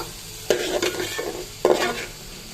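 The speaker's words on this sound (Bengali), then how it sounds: "এখানে আমার নাড়াচাড়া করে ভাজা ভাজা হয়ে গেছে" Stir-frying in a pan while making chicken rezala, with a spatula scraping and tossing the food in two clear bursts over a faint background sizzle, close and alone.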